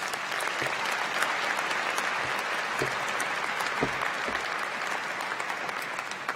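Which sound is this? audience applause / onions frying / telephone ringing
audience applause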